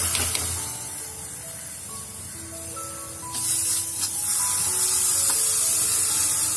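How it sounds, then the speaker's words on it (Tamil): Soaked and drained sesame seeds roast in a pan, giving a continuous hissing, spray-like sizzle that grows louder midway as the damp seeds hit the heat. "அந்த ஈரப்பதம் போய் எள்ளு நல்லா பொரியிற வரைக்கும் நம்ம வறுத்து எடுத்துக்கணும்"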